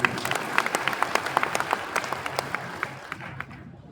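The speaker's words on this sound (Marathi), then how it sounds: "पण टाळ्या वाजवण्यामध्ये कंजूसी होऊ नये." Audience applause at the Mahatma Basaveshwar Jayanti celebration in Loha, a steady patter of many hands clapping close by, thinning and fading toward the end.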